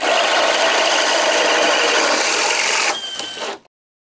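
Bosch drill boring with a bit at speed 2, a loud continuous grinding whine that runs steadily, then drops and stutters briefly before cutting off abruptly, followed by silence.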